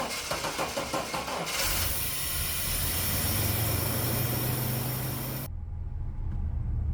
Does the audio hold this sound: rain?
no